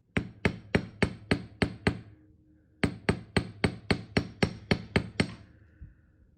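A wire earring is hammered on a metal mandrel at a jewellery bench. Two close bursts of sharp, evenly spaced taps, six and then eleven, are separated by a short pause, with no voices.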